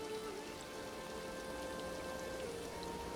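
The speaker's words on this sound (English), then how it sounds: "It's little raining now" Soft, steady rainfall patters gently and evenly in the video game Elder Scrolls Online (Gold Road chapter), with a faint sustained tone lingering in the background; no one speaks.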